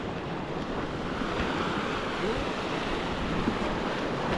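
Ocean surf washes steadily onto the Konkan shore during a fishing trip. The broad, continuous roar sits close to the microphone and carries some wind noise.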